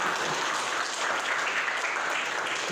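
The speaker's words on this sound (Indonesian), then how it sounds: "Boleh tepuk tangan untuk Naila Hasnah." Sustained applause from a seated audience at a university event, honouring the student conductor Naila Hasnah after the anthem Indonesia Raya; dense, steady clapping throughout with no talk over it.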